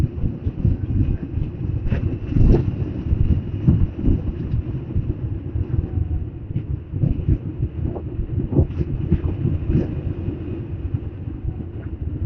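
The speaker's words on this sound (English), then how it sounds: "the wind is probably going to make it difficult for me to talk" Wind buffets the microphone while riding an electric BMW CE-04 motorcycle, a loud, steady low rumble with gusting swells that fill the whole clip, no talk over it.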